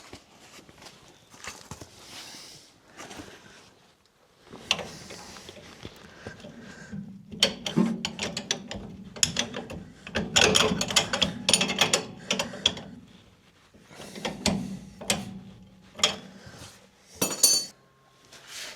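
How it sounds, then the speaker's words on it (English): Harbor Freight ratchet strap being cranked tight on a 1980 Dodge Power Wagon: bursts of rapid clicking ratchet strokes with metallic rattles, loud and close, separated by short pauses. "I got a Harbor Freight ratchet strap stretched to the max"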